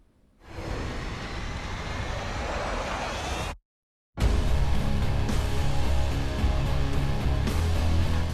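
A loud, continuous roar of helicopter engine noise fills an X-Men film scene, cuts out briefly, then returns with a heavy low rumble and music.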